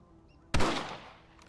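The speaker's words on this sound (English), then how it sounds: "I think he's shooting bottles." A single sharp rifle shot from a Red Dead Redemption target-shooting scene at bottles cracks out loud after quiet, followed by a decaying echo.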